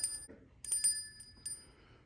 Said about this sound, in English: the sound of the ring, now this one, it's very tinny